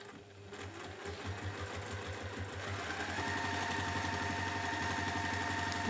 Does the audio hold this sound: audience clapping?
no